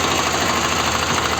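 Four-wheel mini tiller tractor, 10 hp with a 456 cc engine, running steadily nearby with a loud, continuous, even mechanical drone.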